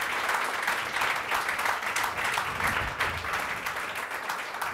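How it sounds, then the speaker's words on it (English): Audience applause at an ADA anniversary event: a steady, dense wash of clapping that holds at an even level for the whole stretch, with no voices standing out. "Another round of applause for you."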